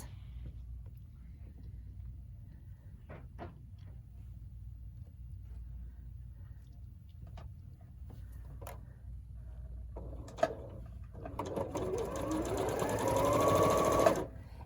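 A sewing machine stitches quilt block pieces together, starting after a stretch of low background hum with a few clicks and running steadily and loudly near the end.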